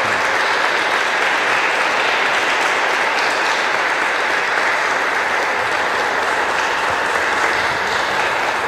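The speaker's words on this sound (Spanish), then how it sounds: "un fuerte aplauso a Kimberly Guadalupe por sus 15 años" A church congregation at a fifteenth-birthday quinceañera mass breaks into loud, sustained applause, dense and even for several seconds without speech.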